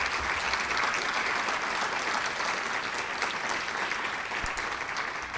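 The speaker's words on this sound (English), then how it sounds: "A big round of applause to my financial people." Steady audience applause at a university State of the Campus address, continuous dense clapping from a crowd at fairly even volume throughout.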